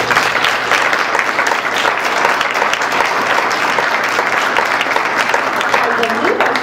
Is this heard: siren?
no